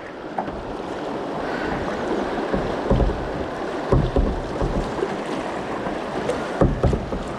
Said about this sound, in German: Aber jetzt geht es rein in die Strömung und dann wollen wir mal schauen.